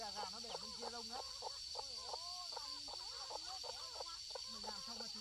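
Chickens cluck repeatedly and close by on a farm, a busy run of rhythmic clucks and calls over a steady high background hum.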